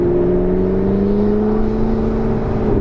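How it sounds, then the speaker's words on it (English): A McLaren 650S Spider pulls hard, its turbo whirring as a rising tonal whine over a loud, steady engine roar throughout. "The turbo is just whirring up."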